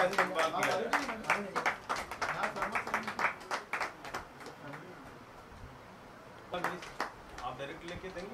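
Clapping at a Bahujan Nyay Dal press conference: a dense burst of applause from a small room gives way to scattered claps, fades, then swells again briefly near the end.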